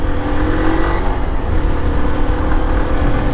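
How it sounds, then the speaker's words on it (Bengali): A Hero Hunk 150R motorcycle pulls hard from second gear, its engine droning steadily and loud close by as it accelerates without any talk. "সেকেন্ড গিয়ার থেকে আমি টান দিলাম"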